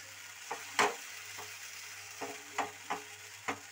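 A utensil stirs food in a pan, with a handful of soft, irregular scrapes and taps over a faint, quiet sizzle. No voices are heard.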